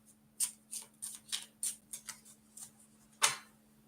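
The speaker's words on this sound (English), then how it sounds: "So I'm just going to go ahead and shuffle it." Tarot cards being shuffled by hand, a quiet, close series of about ten crisp riffling bursts in an irregular rhythm, ending in one slightly louder snap.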